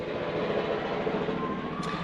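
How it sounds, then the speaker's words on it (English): A helicopter passing overhead near a private airfield gives a steady, low droning rumble with a faint rhythmic flutter, moderately distant and continuous throughout. "apologies if you can hear the helicopter going over"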